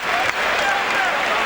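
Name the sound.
basketball arena crowd applauding Rutgers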